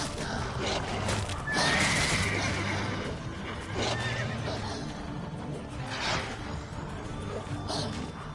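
A horse in The Witcher 3 video game whinnies loudly several times over a steady bed of game ambience and hoof clops, the calls rising and falling across the stretch.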